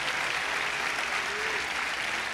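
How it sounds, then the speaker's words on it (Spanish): A church congregation applauds the Lord during a sermon, filling the space with a thick, continuous wash of handclaps at an even, loud level throughout. "Dale fuerte el aplauso al Señor."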